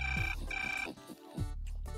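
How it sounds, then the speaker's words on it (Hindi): A telephone rings in short repeated bursts, with a clear electronic ringtone pattern heard close and alone. "सुबह सुबह टेलीफोन।"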